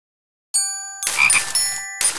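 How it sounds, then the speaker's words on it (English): Cartoon frogs croak in a short musical sequence in a Curious George PBS Kids game, a chiming tone followed by a few bright, ringing croaks after a moment of silence. "has found some very musical frogs"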